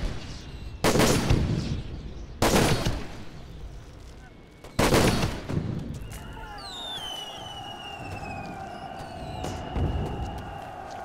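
Sniper fire in the video game Toy Soldiers: three loud, separate shots a couple of seconds apart, each with a booming tail, followed by whistling projectile sounds and a lower rumble.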